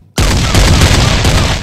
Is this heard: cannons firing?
yes